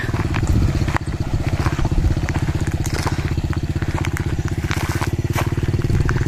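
A motorcycle is ridden with a loud, close engine putting out a steady rapid putter, mixed with rattling and crackling from the road, continuous throughout.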